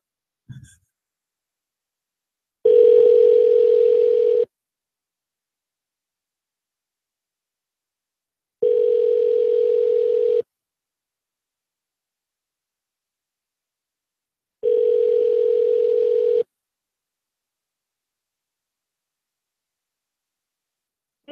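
Three long, steady telephone ringback tones sound while a call is being placed, each lasting about two seconds and separated by roughly four seconds of silence. The tones are clear and evenly spaced.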